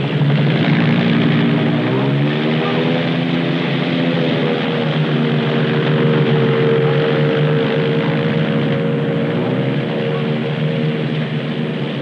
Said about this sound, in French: L'hydravion se prépare à décoller de la pointe sud de l'île des Femmes